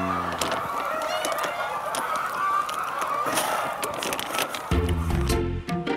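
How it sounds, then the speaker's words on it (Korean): Chickens on a Jeju animal-welfare certified farm, roaming freely inside the barn, cluck and honk in a loud, dense flock chorus, with a few sharper calls standing out near the end. "이곳에서 사육되는 닭들은 축사 안에서 자유롭게 돌아다닙니다"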